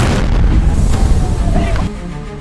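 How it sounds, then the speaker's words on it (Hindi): A car bomb's heavy, booming blast fills the clip, a loud low rumble with rolling debris-like texture that cuts off abruptly near the end, at the Red Fort in 2025. "तेज धमाके के साथ फट जाती है"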